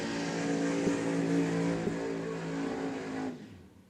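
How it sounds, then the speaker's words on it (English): A 1967 Ford Mustang Fastback Pro Modified drag race car runs with a loud, steady engine roar at a drag racing event, holding a droning tone for a few seconds before cutting off sharply into quiet. "Beautiful 1967 Mustang Fastback."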